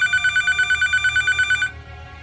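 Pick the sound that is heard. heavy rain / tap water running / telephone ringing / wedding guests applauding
telephone ringing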